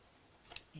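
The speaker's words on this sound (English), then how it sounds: "you can just snip that off" Scissors give a single quick, crisp snip as they cut excess paper off a small gift bag, close and fairly faint, followed by a light rustle.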